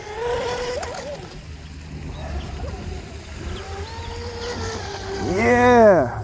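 Brushless mini RC boat with a new propeller running on water, its high motor whine rising and falling in a doppler sweep as it passes close near the end, over steady background noise, with people talking.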